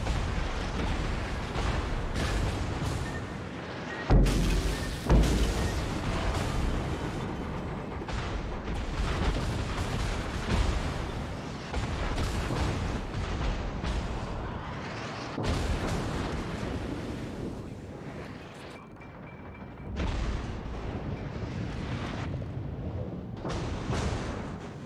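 Naval gunfire in the World of Warships video game: heavy booming salvos and blasts recur over a dense, continuous roar of battle, loud and close throughout, with no talking.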